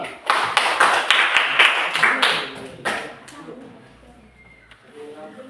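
A classroom audience claps after a group presentation, a short burst of clapping that fades into quieter room noise with some voices.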